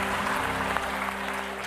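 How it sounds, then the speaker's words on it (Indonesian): Studio audience applause during a birthday greeting on an Indonesian entertainment show, a steady broadband clatter of clapping filling the short moment at moderate, even loudness with no voices over it. "Tepuk tangan dong."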